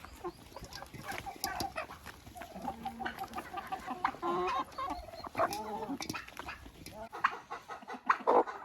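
Hens in a farmyard coop cluck and squawk during feeding, a busy scatter of close, irregular calls rising and falling throughout without talk.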